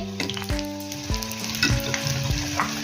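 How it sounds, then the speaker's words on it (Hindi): Chinese-style spring rolls fry in oil over a medium flame with a steady close sizzle. Plucked musical notes ring out over it at intervals, and no voices are heard. "अब हम इन्हें फ्राई करेंगे"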